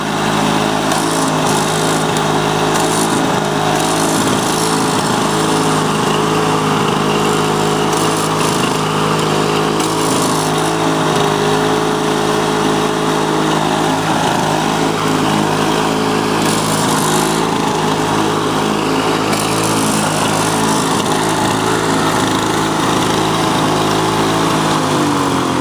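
A Lawn-Boy Duraforce lawn mower engine runs loud and close, a steady high-pitched buzzing drone that holds unbroken throughout with no speech over it.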